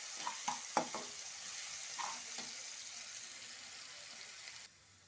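Garlic and onion frying in a pan as they are stirred, a faint steady sizzle with a few soft scraping knocks near the start, then cutting off.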